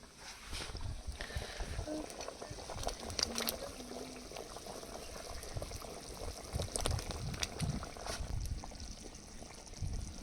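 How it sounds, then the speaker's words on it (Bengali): Thin fish broth bubbling in a pot on the stove, with a soft, continuous simmer of small pops and gurgles throughout, faint and close. "ঝোল ফুটে উঠেছে"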